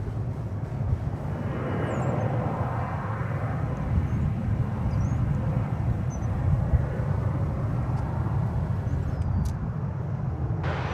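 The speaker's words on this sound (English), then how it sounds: "Well, there's one of those Embraer 175s. This is the one going to Durango." Embraer 175 regional jet taxiing out for departure at DFW Airport, a continuous low engine rumble and hiss at moderate distance, steady throughout with faint chirps above it.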